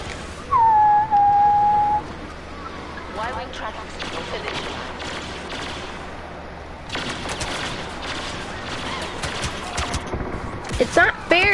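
Gunfire from a Star Wars video game crackles in dense bursts of rapid shots with whistling blaster tones, loud in spurts and quieter between, while a player talks over the action.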